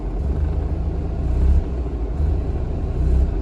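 A Mazda RX7 FC rotary engine, up to temperature, idles with a low uneven rumble that swells and sags as it struggles and threatens to cut out under clutch load.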